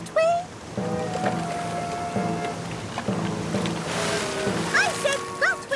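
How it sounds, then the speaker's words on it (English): Cartoon ocean waves roll and splash steadily around a small boat in rough, growing swell, a continuous wash of water noise with a few brief squeaky tones near the end. "The waves are getting huge."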